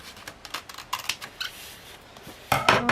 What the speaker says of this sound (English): from here, you can just cut the ear however you would like